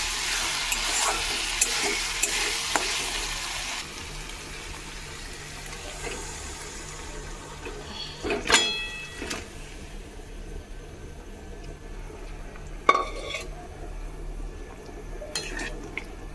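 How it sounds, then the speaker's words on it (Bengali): Moong dal is poured into fried spices in a pan and stirred, with a steady frying sizzle throughout, broken by a few sharp clanks of a spoon against the pot. "এবারে ডালটা আমি ঢেলে দেবো"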